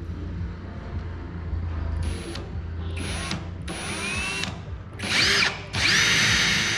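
A power drill bores holes into a sailboat hull in several short bursts, each a loud whining spin that rises and stops, with a longer final run and a low background rumble.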